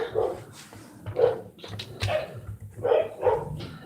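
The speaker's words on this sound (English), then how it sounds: "My dogs are out there having a fit about something." Several dogs bark outside in irregular bursts, somewhat distant and muffled, with sharp yips mixed between the deeper barks over about four seconds.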